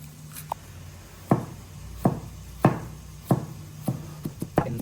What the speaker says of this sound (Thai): หั่นมะเขือก่อนนะครับผม